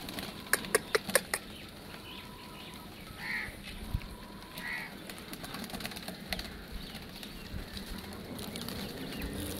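Lotan pigeons at a morning pigeon farm: a quick flurry of wing flaps near the start, then scattered cooing and bird calls over a constant background hiss, with no talking.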